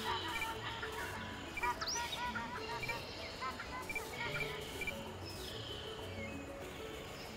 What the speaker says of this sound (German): Oh, Heuschrecken.